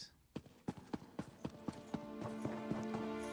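Horse hooves clip-clop in Elder Scrolls Online: a quick, even series of about a dozen distinct thuds, faint at first and growing slightly louder, blending into a steadier hum of game ambience toward the end.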